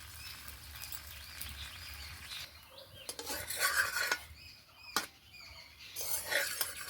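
A paratha roasting in a kadai, with a metal spatula scraping and tapping against the pan in irregular bursts and a few sharp clinks at close range.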